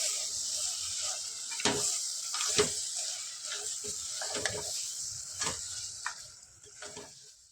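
Soya chunks are stirred in hot oil in a pan over a lowered gas flame, giving a steady bright sizzle broken by several distinct scraping stirs of the spoon against the pan, close and fairly quiet.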